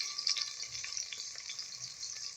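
Onion frying in hot ghee, a steady broadband sizzle with bright crackle running throughout, close and continuous with small pops, no voices.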